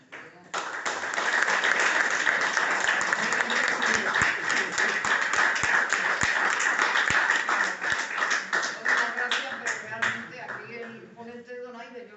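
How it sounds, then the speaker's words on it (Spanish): Loud audience applause at a conference on Ceuta, sustained dense clapping with some sharp individual claps standing out, fading toward the end as a voice begins to speak. "este aplauso fuertísimo te va muy merecido bien esta tarde"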